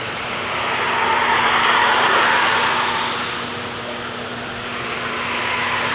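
Cars being driven fast around a test-drive course at the OC Auto Show 2025 make a loud, steady roar that swells and eases over several seconds, heard from some distance without talk.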